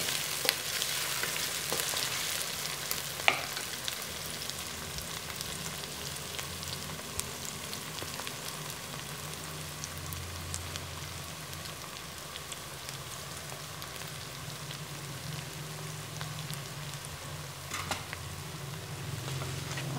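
Onions for chicken kachnar fry in a pan with a steady broadband sizzle, close and even throughout, broken by occasional light clicks of stirring and no talk.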